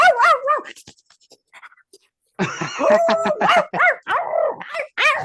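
A woman imitating a frantic barking dog in a voice-actor performance, with rapid yapping, yipping barks and howl-like cries in two bursts separated by a short quiet gap, loud and close.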